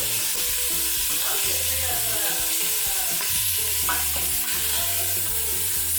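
Gumbo sizzles loudly in a pot, giving a dense, constant frying hiss with scraping stir sounds and faint background music.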